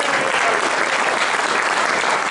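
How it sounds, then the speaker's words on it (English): A crowd claps steadily and loudly throughout at a town hall meeting at the Minnesota State Capitol, a dense, even wash of applause with no voices standing out. "Let's give them a round of applause."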